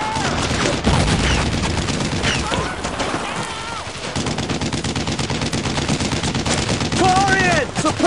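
Dense, loud gunfire from the Brothers in Arms video game, with rapid machine-gun bursts and single shots packed together continuously, and shouted voices mixed in.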